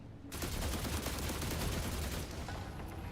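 Gunfire in the video game The Last Caretaker, a sustained loud burst of rapid shots roaring for about two seconds before easing to a lower rumble, with no speech.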